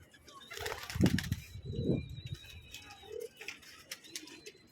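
Pigeons coo softly with a few bursts of wing flapping, fairly quiet and close, against light background noise.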